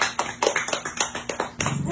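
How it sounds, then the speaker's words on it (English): Classroom of students clapping together in a quick, rhythmic series of sharp claps, close and fairly loud, with a brief pause before the last burst. "a round of applause."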